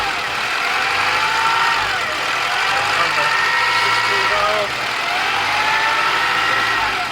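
The 4-cylinder, 16-valve engine of a 1990 Honda Accord EX idles steadily and loudly up close, with an even hum and a faint whine running throughout.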